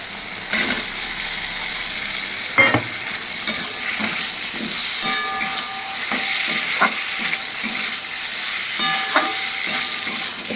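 Fried potato going into a hot, oily fish curry masala in a pan, loud steady sizzling with repeated scraping stirs, close by and alone without talk.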